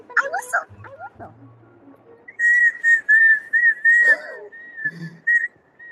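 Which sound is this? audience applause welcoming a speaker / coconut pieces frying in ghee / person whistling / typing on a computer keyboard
person whistling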